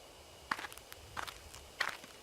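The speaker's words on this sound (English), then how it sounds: "I hear footsteps again." Footsteps on a path through the woods at night in the horror game Death Mark, three soft crunching steps spaced apart over a low ambient hiss, no talking.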